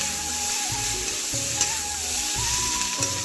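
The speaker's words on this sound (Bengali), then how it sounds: "সয়া সস দিয়ে এবার নাড়াচাড়া করবো।" Stir-frying with soy sauce in a pan: a steady sizzle with periodic scraping strokes from stirring, close and moderately quiet.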